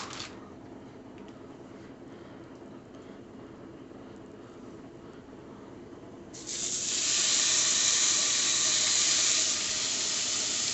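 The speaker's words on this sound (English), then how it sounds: "Oh, that bacon is sizzling and popping." A steady, fairly loud frying hiss of applewood bacon in a pan that swells sharply partway through and then holds, with faint crackles and pops underneath and no talking.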